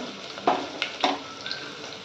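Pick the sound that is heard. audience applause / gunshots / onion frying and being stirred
onion frying and being stirred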